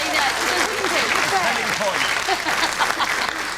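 Studio audience applause on a panel game show, dense continuous clapping from a sizable crowd, loud and close, with voices faintly audible beneath.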